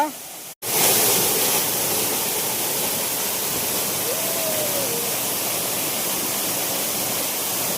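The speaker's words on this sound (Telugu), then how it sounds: "వాటర్ ఫాల్స్ ఫుల్ వాటర్ వస్తుంది" Benarai waterfall in Karinga Hill pours in full flow, a loud, dense and continuous roar of rushing water that stays steady throughout after a brief dip at the start.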